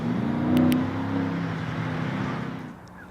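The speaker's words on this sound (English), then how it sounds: "let's go ahead and start her up" Mercedes-Benz S65 AMG Coupe V12 biturbo engine running at idle, a steady, close, low rumble that briefly swells near the start and then settles and fades slightly.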